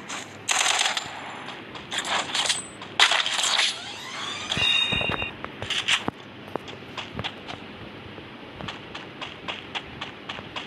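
Gunfire from the Free Fire battle-royale video game: loud bursts of rapid shots in the first few seconds, then scattered sharp single cracks and game effects fading over the rest.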